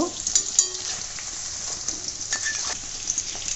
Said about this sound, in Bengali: লো থেকে একটু হাইয়ে আমি এগুলোকে ধীরে ধীরে লাল লাল করে ভেজে নেব